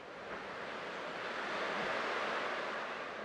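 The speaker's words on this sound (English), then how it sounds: "I can still clearly hear the sound of the waves." Soft, steady ocean wave wash in a video game scene, a faint continuous surf hiss that swells slightly, with no voices.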